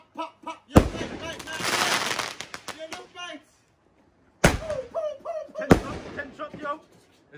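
Bonfire Night fireworks go off in a handful of sharp, loud bursts, one long crackling volley followed later by two separate bangs, with people talking between them outdoors.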